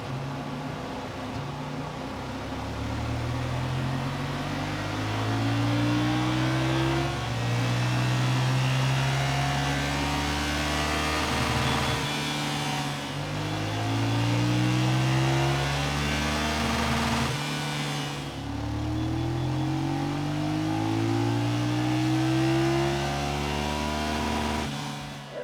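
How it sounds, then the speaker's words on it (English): A stock BMW F900XR motorcycle runs on a dyno, its engine droning loud and steady for the whole stretch as the pitch climbs in repeated rising sweeps, with brief dips between pulls. "So we're just going to run it up on the dyno, make sure it's doing what we're expecting it to do"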